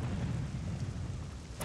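Low rumbling thunder rolls continuously on the lightning stage of a Mortal Kombat fighting game, a dense steady roar that holds the whole time with a faint crack at the very end.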